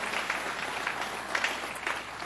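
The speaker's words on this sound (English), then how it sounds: "Give him a round of applause, Senator Carl Marcelino." An audience claps in applause at a Long Island event held by the New York governor, a steady wash of many hands sustained throughout at moderate level, with no voices over it.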